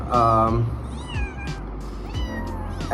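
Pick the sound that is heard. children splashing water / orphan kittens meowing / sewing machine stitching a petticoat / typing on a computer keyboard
orphan kittens meowing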